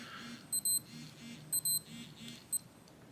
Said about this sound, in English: That was an alarm for it being 10 p.m.